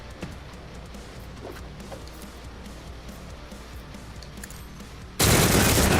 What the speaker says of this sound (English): Good damage with the auto gun.